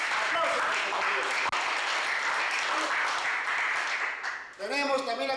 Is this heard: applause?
yes